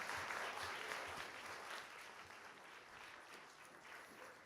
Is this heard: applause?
yes